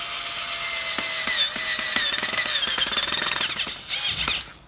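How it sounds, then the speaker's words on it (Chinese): A wrench ratchets a screw tight while assembling a Normad 3 chair, giving a close run of sharp metallic clicks and scraping over a steady hiss, ending in a louder rough grinding burst. "先用 手拧几圈，然后用扳手直接"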